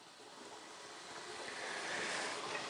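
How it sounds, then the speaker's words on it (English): Water swirling inside the bowl of a refurbished 270 S model spin rinse dryer during its purge, a soft steady rushing wash that swells slightly louder toward the end, heard alone. "the water, instead of water falling down, will start to swirl"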